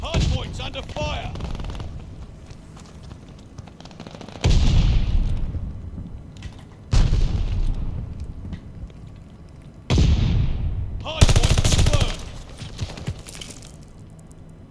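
Repeated bursts of gunfire and explosive blasts from the video game Call of Duty Vanguard during a ranked Hardpoint match, loud impacts recurring every few seconds over continuous battle noise, with a player talking throughout.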